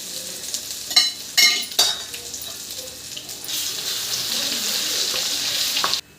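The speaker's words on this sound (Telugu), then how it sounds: "అల్లం వెల్లుల్లి పేస్ట్ పచ్చివాసన పోయే వరకు వేయించుకోవాలి" Ginger garlic paste frying in hot oil for chicken pickle, a steady close sizzle that swells louder after a few stirring scrapes and knocks, then runs on evenly before cutting off.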